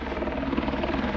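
A helicopter flies over a mountain campsite in Khao Yai, its rotor making a steady, loud, rhythmic thudding chop that holds throughout.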